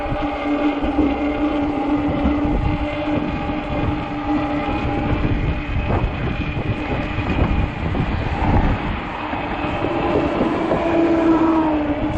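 Cold, frigid wind roars steadily past a 20-inch 48V Ecotric fat tire e-bike on a ride, a dense, continuous rumble and rush that stays loud throughout with gusty swells.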